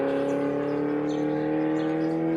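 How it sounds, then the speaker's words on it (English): A loud sports car driving by, with a steady droning engine tone that slowly rises in pitch and stays close and prominent throughout. "can you see that noise? This is one of the sports car actually."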